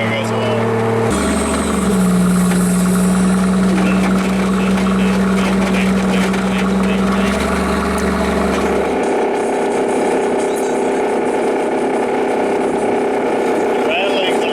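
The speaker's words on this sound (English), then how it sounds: "Rattling's a little loud." A rat rod car driving along, its steady engine drone and road rumble filling the cabin with a dense rattling noise that shifts in tone partway through.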